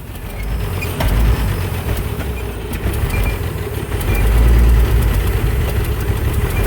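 A 1927 Pierce Arrow 80 Series two-door coupe engine idles while warming up, a steady low rumble that swells slightly near the end, heard close with no talking.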